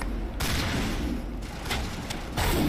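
Dense video-game gunfire crackles in a sustained crossfire, rapid overlapping shots and booming impacts, loud and continuous with brief surges.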